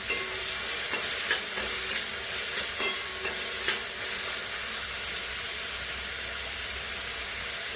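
Snake gourd and whole masoor lentils sauté in a hot pan, giving a steady broadband sizzle and hiss with a few soft stirring scrapes and clicks, constant and close without any voices.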